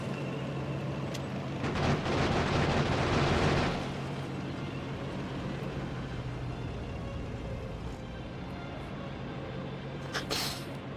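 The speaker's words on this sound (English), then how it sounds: "One of these days I'm going to learn to not hold the button while I'm shooting the cannon shells." Cannon shells fire and explode in the video game Factorio as a dense, loud, continuous rumble of blasts, heaviest early on and then settling into a steady roar with scattered bursts.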